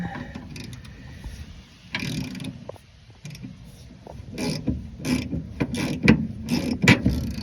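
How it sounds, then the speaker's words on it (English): Hand ratchet working on a bolt in the engine bay of a 1959 Chevrolet Bel Air, giving repeated short clicking bursts, some louder and closer toward the end, over a low background rumble. "Alright, once I get that loose, grab the old ratchet."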